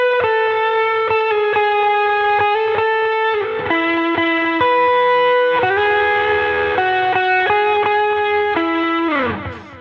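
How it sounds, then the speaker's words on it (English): Electric guitar through a Tube Screamer distortion pedal plays a singing lead line, mildly gritty overdriven notes picked one after another in a steady melodic run, loud and close, ending with a brief strummed flourish. "a tube screamer basically is a distortion pedal, but it's not like really gritty distortion"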